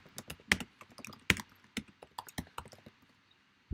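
Irregular bursts of close computer keyboard keystrokes while coding JavaScript, sharp clicks in quick clusters with brief pauses, some keys louder than others, no voices.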